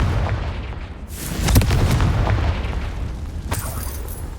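Fiery Confringo spell blasts from the wizarding game Hogwarts Legacy, a booming burst near 1.6 seconds and another around 3.5 seconds over a continuous rumbling backdrop.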